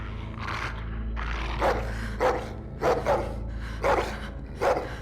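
A dog in The Walking Dead: The Final Season video game barks in a series of about six sharp, loud barks at an uneven pace, close by over a steady low background hum.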